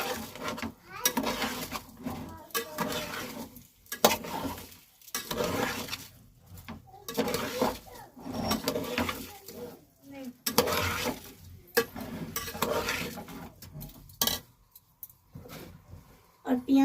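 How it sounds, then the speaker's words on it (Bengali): Washed rice is stirred into chicken in a pot, with irregular rough scraping and shuffling strokes and occasional clinks, a faint sizzle underneath. A voice speaks at points alongside the stirring. "চালটা দিয়ে ভালো করে নেড়ে নেব"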